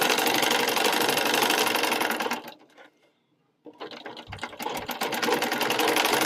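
Sewing machine stitching the neck band onto a newborn baby's garment: a fast, steady mechanical whir runs close up, stops briefly for about a second, then starts again and continues.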